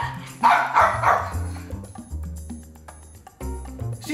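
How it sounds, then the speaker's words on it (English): A small dog barks and yips several times in short bursts, fairly close, with brief pauses and whimpery notes between. "You are not a dog that barks."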